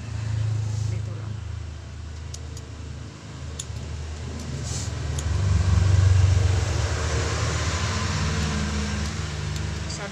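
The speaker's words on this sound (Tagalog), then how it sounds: "Masyadong maingay. Ang daming truck na dumadaan eh." Heavy trucks rumble past on a nearby road, a steady low drone that swells for a few seconds and then settles, with voices speaking over it.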